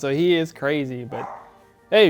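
Chiweenie, a Chihuahua and dachshund mix, barking indoors in a few short, sharp bursts close to the microphone, with someone talking in between.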